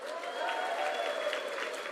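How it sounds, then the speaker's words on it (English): An evening awards-event audience applauds, a fairly soft, steady ripple of many hands clapping heard from a distance, with a faint tone running underneath. "give yourselves a round of applause for being back out in public"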